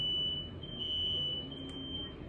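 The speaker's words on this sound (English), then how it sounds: "Oh, the fire alarm." A smoke or fire alarm emits a steady, continuous high-pitched electronic tone that holds loud and unbroken for a couple of seconds, with faint room noise underneath and no speech.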